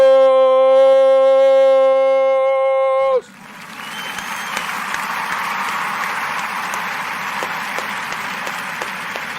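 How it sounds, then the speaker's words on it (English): A sustained horn-like synthesized chord cuts off abruptly, followed by an audience at a culture talk event applauding, steady moderate clapping from a crowd continuing to the end. "we want to give all the Kuumba babies a round of applause"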